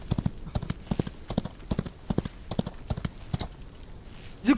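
Steady, quick clip-clop of horse hooves at a trot in the game Outlaws of the Old West, crisp and close, with a brief louder sound at the very end.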